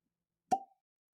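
A single short, hollow glug of whisky gurgles from a freshly uncorked bottle, one quick close plop that fades within a fraction of a second, with silence around it.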